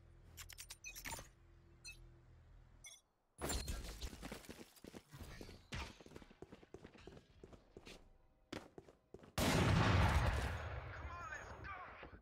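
Gunfire in the video game Valorant, scattered bursts of shots mixed with footsteps and clattering effects, with a sharp loud burst near the end.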